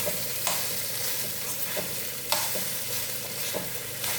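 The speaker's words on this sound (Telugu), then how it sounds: "ఈ అన్నం ఇందులో వేసుకుంటున్నాను" Cooked rice is tipped into a hot pan and stirred, a steady sizzle broken by several sharp scrapes and taps of the spoon against the pan, close up with no talking.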